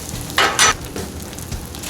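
Eggs and garlic fry on a Blackstone griddle, a close steady sizzle with two brief louder bursts of crackling spatter early on.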